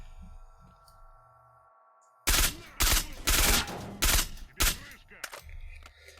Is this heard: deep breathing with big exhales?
no